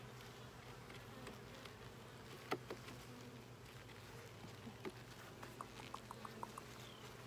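Honey bees drone in a steady, continuous buzz while a hive is opened for inspection, with scattered small clicks and taps from the frames and tools.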